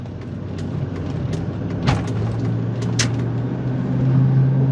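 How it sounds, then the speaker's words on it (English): A 2002 Cadillac Escalade with 133,000 miles drives on a test drive, a steady low engine hum with a couple of brief clicks or clunks, the tone rising slightly near the end. "we're going on a quick test drive here"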